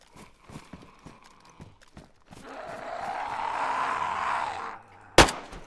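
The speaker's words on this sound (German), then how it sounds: "Oh, auch noch Schüsse." Gunfire in DayZ with a Walking Dead zombie mod: one sharp, loud shot cracks near the end, following a long rushing noisy wash and a few faint earlier clicks.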